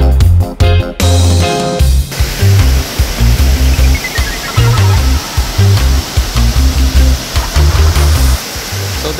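Strong water rushes from a cave source into a refreshment pool at Miabo Cave in Bukidnon, a loud, constant roar heard under rhythmic background music.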